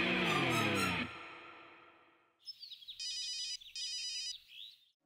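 A telephone ringtone plays in two clear repeated bursts after a stretch of fading music, electronic and bright at moderate volume.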